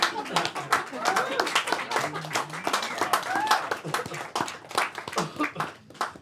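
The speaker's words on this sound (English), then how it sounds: "I felt like some of you didn't clap then." An audience at a small live music gig claps after a song, a steady patter of many hands at moderate distance with scattered voices and chuckles mixed in.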